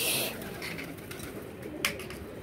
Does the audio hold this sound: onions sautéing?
no